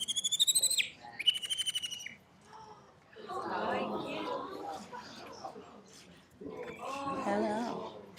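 A captive great horned owl named Archie gives a few shrill, wavering screeches up close, then a person talks at length over the quiet room.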